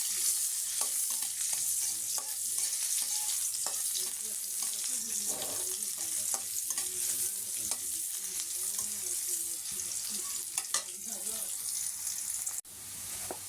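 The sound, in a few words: stirring food in a pan after adding salt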